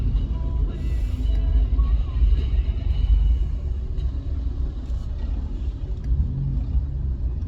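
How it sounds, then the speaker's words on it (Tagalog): Heavy road traffic on a busy street beside a pedestrian crossing rumbles in a deep, continuous drone of engines, with passing vehicles swelling and fading and faint voices in the background. "Kaya lang sobrang traffic."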